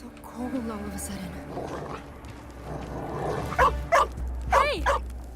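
Dog barks and yips ring out in an indie video game, a few sharp bursts near the end over a steady low hum, with game voices and speech running through the first half.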